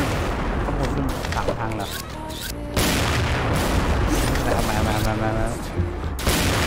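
A Pegasus AMR-2 sniper rifle fires during a match in the online shooter XSHOT. Loud booming shots and rattling gunfire crowd a busy battle mix, while someone talks over the action.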